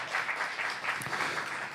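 A church congregation claps together during a Saturday sermon, a steady, even patter of many hands held at moderate loudness and fairly close.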